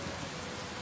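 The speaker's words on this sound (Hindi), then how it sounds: "पानी की बूंदें शेड की टिन की छत पर टप टप बज रही थीं" Heavy monsoon rain drums on the tin roof of a roadside pakora stall's shed, a dense steady hiss of drops with no voices, brief and even in loudness.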